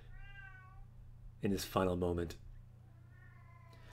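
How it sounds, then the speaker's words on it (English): A cat in a video game meows plaintively, with a couple of drawn-out crying calls at the start and end and a louder wail in the middle, under a man's speech. "You can hear the kitty also crying for him"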